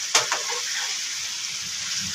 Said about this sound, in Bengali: ডিমগুলো দিয়ে ভালো করে মশলাটা ওর সাথে মিশিয়ে দিচ্ছি।